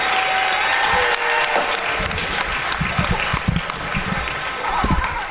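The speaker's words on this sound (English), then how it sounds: "let's give one more big round of applause for our fall sports All-Ohio athletes." A crowd in a high school basketball gym claps steadily in sustained applause, dense and even throughout, with a few voices blending into the noise.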